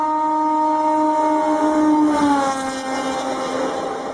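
A loud, sustained train horn blares with a steady multi-tone chord, close and alone, slowly fading near the end.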